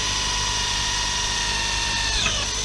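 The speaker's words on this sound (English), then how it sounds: "And we go ahead and we drill the 4 holes" An electric drill bores holes around the shaft of a Forespar Leisure Furl furling drum on a mast, a close, loud, steady high whine held at constant speed with a slight dip near the end.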